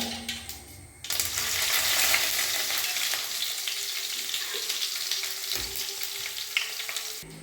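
Garlic and cumin hit hot oil already crackling with popped mustard seeds, giving a sudden loud sizzle that holds as a steady close hiss, with light scraping clicks now and then.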